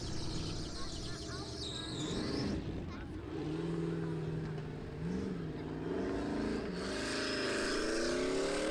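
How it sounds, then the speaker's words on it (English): A Formula Offroad car climbs a hill at an event in Egilsstadir, Iceland, its engine rising and falling in strained revs under continuous commentary. "first climb, gets through there, nicely done. Can Ingi tackle the final gate?"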